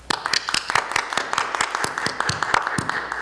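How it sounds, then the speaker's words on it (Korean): A church congregation at a Sunday worship service claps together in blessing and encouragement, with a brisk, fairly close patter of many hands filling the room at a steady pace. "우리 옆에 있는 가족과 함께 우리 축복과 격려와 위로의 박수를 함께"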